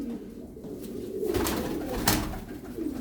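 A tumbler pigeon coos softly in a short, low bubbling call, with a couple of sharp brief flutters or knocks breaking in over the steady background.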